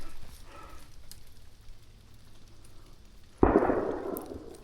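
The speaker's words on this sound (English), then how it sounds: "Third shot." A single rifle shot rings out outdoors during an elk hunt in Idaho. After a quiet stretch it arrives as one sudden loud crack, followed by a rolling decay.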